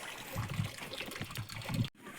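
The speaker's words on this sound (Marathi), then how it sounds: "बैल पाणी पितोय" Close, wet slurping and trickling as a bull drinks water in repeated gulps, then a sudden cutoff.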